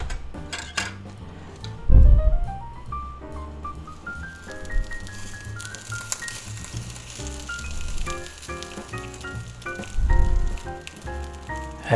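Cheese omelet sizzling steadily in a cast iron skillet, with a couple of soft thuds and clatters as it is turned over, over a constant frying hiss.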